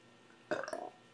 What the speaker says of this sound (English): See if water makes me burp.